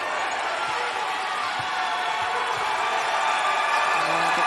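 A steady, dense roar from the crowd fills a gym during a girls' state basketball semifinal, with occasional ball bounces and a commentator talking over the noise.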